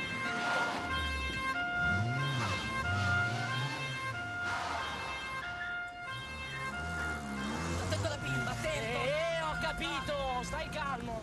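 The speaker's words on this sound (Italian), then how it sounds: "Metti la sirena, t'ho detto!" An emergency vehicle siren wails loudly and continuously, its rising and falling tone running alongside overlapping shouting voices and dense ambient noise.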